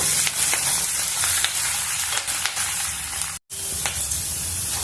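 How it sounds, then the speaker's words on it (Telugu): Fenugreek seeds and curry leaves fry in hot oil with a steady, close sizzle and crackle, broken by a brief silent gap near the end before the frying resumes. "మెంతులు బాగా వేగిపోయినాయి ఇప్పుడు కరివేపాకు కూడా వేసేసుకున్నాము"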